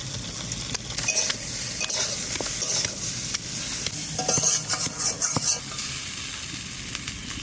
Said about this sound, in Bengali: বেগুনটা একটু হালকা করে ভেজে নিছি, এবার নামাই নেব।